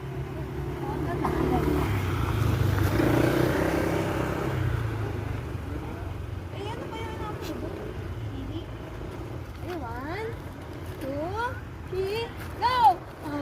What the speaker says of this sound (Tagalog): Oh, may motor pa.